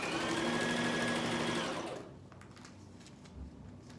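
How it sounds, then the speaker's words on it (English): A sewing machine runs a straight stitch across a puffer jacket, a fast, steady mechanical whir for about two seconds that stops abruptly, leaving quiet handling noises. "So I'm just doing a straight stitch all the way across"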